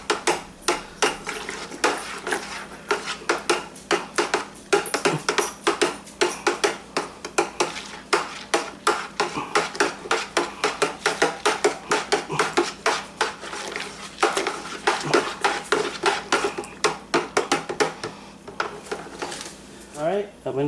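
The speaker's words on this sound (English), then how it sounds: "the instructions do say to stir, so I'm going to stir. Just in case that sweetener actually needs to be mixed in." A spoon stirs Brewer's Best Orange Shandy beer wort with sweetener in a brewing pot, a steady, rapid clatter of knocks and scrapes against the metal, close and fairly loud, going on without a break.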